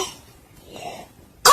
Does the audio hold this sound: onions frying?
no